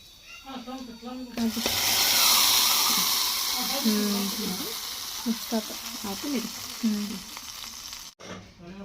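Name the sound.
frying in ghee in a pan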